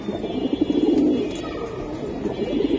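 Silver Giribaz pigeons coo in a throaty, rolling stream of low calls close by, swelling and fading in a continuous chorus over a light background murmur.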